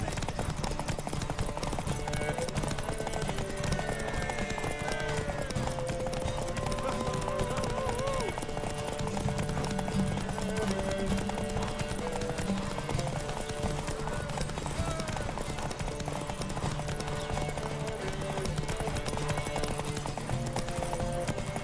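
Horses gallop in a race in The Witcher 3, a dense, steady patter of hoofbeats running throughout under voices and busy game sound.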